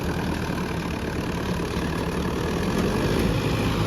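A Sonalika 60 DI 4x4 tractor engine (4712cc diesel) runs loud and close with a steady, throbbing diesel rumble that holds throughout.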